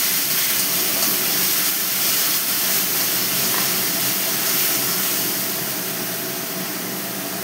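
Steady, loud hiss and sizzle as water meets spice paste frying in a pan for a vegetarian bori curry, fading slightly toward the end with no voices.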